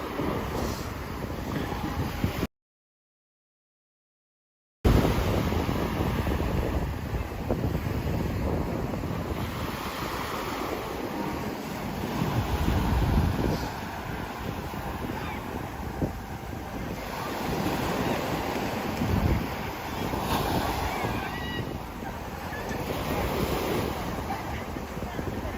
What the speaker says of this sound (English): It's the waves, Chris.